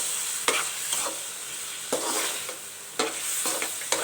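Manchurian chicken with peas being stir-fried, a continuous sizzle broken by several sharp scraping strokes of a spatula against the pan at irregular intervals.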